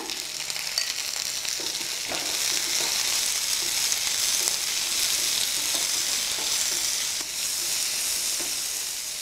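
Onions sizzle steadily in a pan of oil for chilli idli, a dense continuous frying hiss with scattered stirring scrapes throughout, close and fairly loud, no voices.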